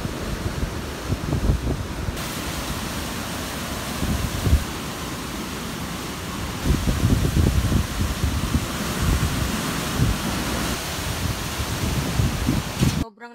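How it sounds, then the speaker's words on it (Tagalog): Strong wind from a typhoon sweeping through a rural province in the Philippines, a loud, steady roar that surges and buffets the microphone for the whole stretch with no talk over it. "Sobrang lakas nga ng hangin na dala ng bagyong Juan."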